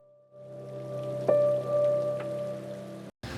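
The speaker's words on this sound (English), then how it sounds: "it started raining a lot and it's leaking" Rain falls steadily in a shop around a vintage van under renovation, a dense continuous patter with a steady tone running through it and a brief sharp knock partway, ending in a short cut.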